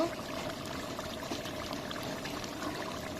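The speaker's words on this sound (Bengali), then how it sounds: "এখন একটু জল দিয়ে দিব।" Hot boiling water poured into a pot of braised duck curry, a close, continuous, even stream of liquid splashing in for a few seconds with no talking.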